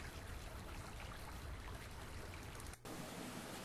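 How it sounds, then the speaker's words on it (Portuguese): A waterfall sound effect from the Total Sound collection plays as a dense, steady broadband rush of falling water that briefly cuts out near the end before resuming. "Aqui, ó, água escorre, Water Falls."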